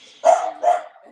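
A dog gives two sharp barks about half a second apart, close and loud, with a brief quiet trailing off afterward and no talking.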